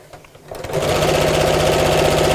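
A sewing machine stitches the lining of a fabric craft bag, starting after a quiet moment and then running steadily with a fast, even mechanical rhythm, close and alone.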